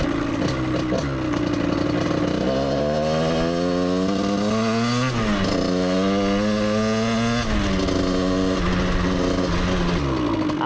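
A project motorcycle engine fitted with an aftermarket ignition runs steadily up close and loud, with a rough buzzing note that swells through a couple of revs and settles back, no voices over it.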